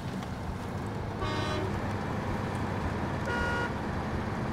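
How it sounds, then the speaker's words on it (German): Two short honks from a car horn in a video game stand out over a steady engine and driving rumble, moderately loud with no talking. "Ah, die Hupe von deinem Auto."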